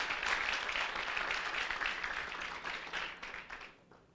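Audience at a religious teaching session applauds in a thick, continuous wash of clapping that holds steady for several seconds, then quickly dies away at the end.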